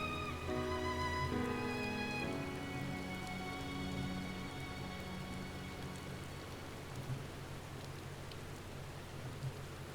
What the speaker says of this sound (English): The rain is a nice touch here for this scene.